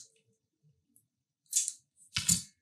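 Scissors snip the ends of an assist hook line for fast-jig fishing, two short sharp cuts about half a second apart in an otherwise quiet setting.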